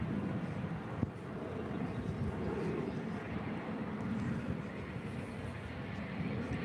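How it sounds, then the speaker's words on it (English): A Spirit Airlines Airbus A321 passes at an airport, a steady, moderately distant jet rumble with a wind-buffeted hiss and one brief sharp click. "That is Spirit Airlines Flight 2701 heading to Las Vegas in this A321."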